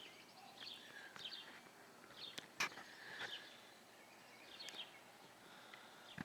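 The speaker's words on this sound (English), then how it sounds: "I always like it when the birds get to make a lot of noise" Birds in nesting season sing and chirp repeatedly in faint, scattered bursts, heard outdoors at a distance in a quiet Missouri field.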